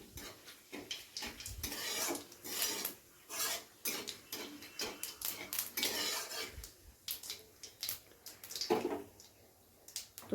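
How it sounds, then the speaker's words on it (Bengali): Whole cumin seeds are stirred in a pan for tempering, a drumstick vegetable dish in progress, with busy metallic scraping and clinking of a utensil against the pan in quick irregular strokes, close and fairly loud, alone. "এবারে খুব ভালো করে ফোড়নটাকে একটু নেড়ে চেড়ে নেব যতক্ষণে না ফোড়ন থেকে সুন্দর ফ্লেভার বেরাচ্ছে।"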